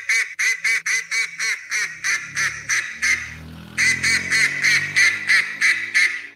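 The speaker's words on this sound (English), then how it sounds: "It's a duck call." A duck call sound effect: a loud, rhythmic series of sharp, nasal quacks in two quick runs separated by a short pause, heard alone.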